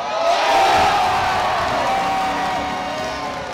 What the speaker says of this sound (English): cheering them on and going crazy and pounding on the glass